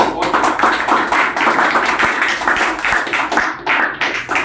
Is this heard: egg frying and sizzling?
no